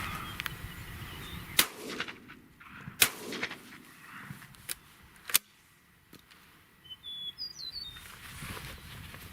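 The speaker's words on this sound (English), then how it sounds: "I'll take a couple shots just to show you the ejection." Fabarm Elos N2 Allsport XL shotgun fired outdoors, several sharp loud blasts spaced a second or two apart with echoing tails, birds chirping faintly in the background.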